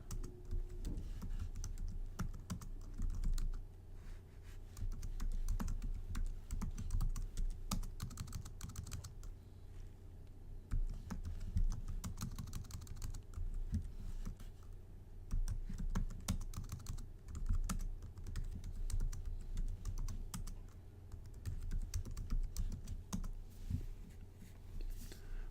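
Steady typing of code on a computer keyboard, a continuous patter of light key clicks with occasional louder taps and brief pauses, close and fairly quiet against a low background hum.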